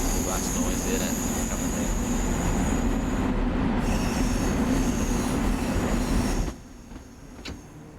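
Continuous rumbling Budd M3 electric commuter train running noise in Train Sim World 4, Long Island Rail Road, with clattering wheels and a high squealing whine, loud and steady for several seconds before abruptly dropping to a quiet hum.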